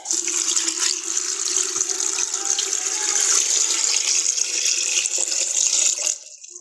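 Water pours steadily in a continuous, close splashing gush for several seconds, stopping abruptly at the end, with no talking.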